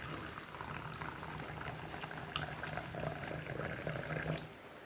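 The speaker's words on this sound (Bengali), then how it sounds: "এবার এর ভেতরে আমি দুধটাকে আস্তে আস্তে ঢেলে দেব" Milk poured slowly into a clean, dry glass bowl, a steady soft liquid trickle and splash running continuously and close by, with no talk over it.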